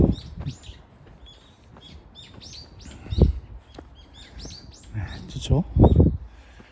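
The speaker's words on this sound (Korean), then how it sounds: "새소리 나고" Small birds chirp and tweet in quick bursts nearby in a spring forest on Ansan hill in Seoul, with someone talking and soft low rustling underneath.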